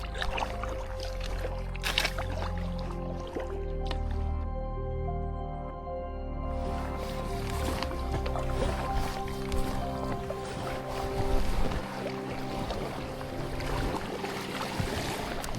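A boat drifting on a fast river current during a paddling trip in Patagonia: steady water rushing and lapping against the hull, close and continuous, with occasional splashes and no voices.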